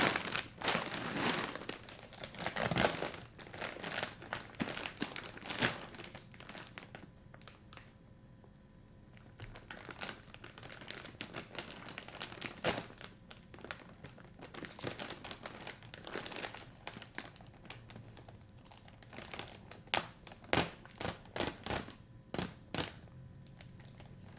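A Honey Graham Toasters cereal package being opened, with close crinkling and crackling of plastic and cardboard in bursts that start, pause briefly and resume over about twenty seconds.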